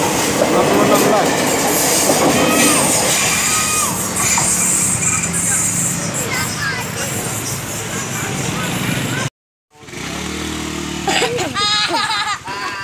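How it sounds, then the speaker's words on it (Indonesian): A freight train of about twenty flat wagons rolls past close by, a loud continuous rumble with rail clatter, broken by a brief cut before wheel squeals and clanking resume, while people talk excitedly over it. "LB kirim rangkaian gerbong datar."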